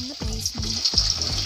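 Oil sizzling in a pan on a stovetop while cooking chicken filling, a steady bright hiss with a few soft knocks and scrapes from a utensil.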